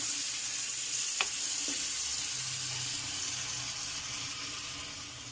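Mutton dropped into hot oil in a pan, sizzling and frying with a steady bright hiss throughout, plus a couple of faint clinks near the start.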